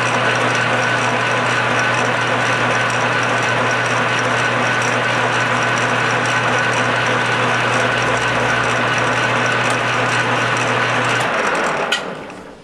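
A metal lathe turning a banjo bolt under power feed gives a steady, loud mechanical hum with a constant tonal whine that runs evenly, then winds down and stops near the end.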